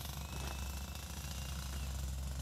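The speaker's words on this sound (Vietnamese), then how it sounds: "Ở nơi đây trường học làm công trình, cái tiếng ồn nó hơi ồn" Jackhammer and construction machinery pounding at a school building site, a steady, loud, continuous rattling roar that fills the whole stretch without a break.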